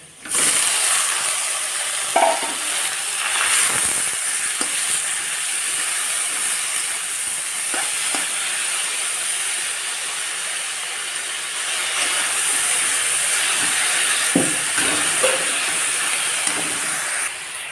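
Malancha saag greens fry in a pan with already-browned onion and garlic, giving a steady sizzling hiss broken by occasional stirring scrapes and clicks, with no talk.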